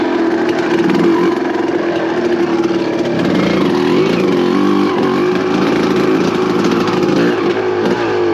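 A 1990 Suzuki RMX 250 two-stroke dirt bike engine runs loud and close, holding a steady buzzing drone with slight rises and falls in pitch throughout, no voices heard.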